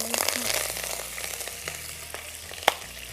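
Fennel seeds and curry leaves sizzle in hot oil for a potato masala. The frying makes a continuous close crackle that settles slightly over time, with a single sharp pop near the end.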